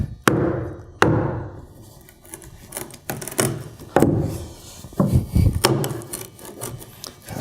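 Sharp knocks from a hammer on wood, several irregular hits mixed with scraping and rubbing of timber, close and fairly loud, while preparing a door or window rough opening.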